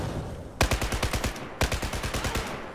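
Two quick bursts of rapid automatic gunfire from a video game, each a rattling string of sharp, loud shots, separated by a brief pause.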